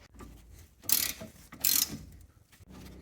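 A ratchet wrench tightens bolts on a brake shield and caliper bracket during an engine swap on a Maestro van, in two short bursts of rapid clicking against a quiet workshop background.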